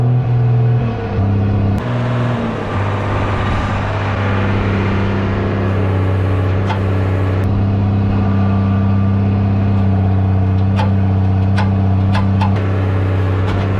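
Cummins diesel engine in a tractor-driven setup revving up to higher RPM, a loud, steady mid-low drone that climbs and holds, with sharp metallic clicks and knocks near the end and no talk.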